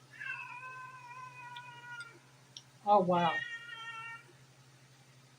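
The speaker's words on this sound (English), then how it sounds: "I hear a cat yelling" A grumpy old cat meows and yowls indoors: a drawn-out nasal meow, then a louder, harsher caterwaul about three seconds in, close by, with a person speaking briefly and a steady low hum underneath.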